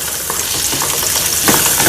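Salmon frying in a hot oiled pan, a steady loud sizzle with crackling pops and stirring scrapes throughout, no talking.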